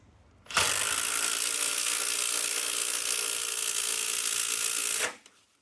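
A Bosch cordless impact driver drives in a final screw with one steady, loud, close whirring buzz lasting several seconds, starting and stopping abruptly, with no talking over it.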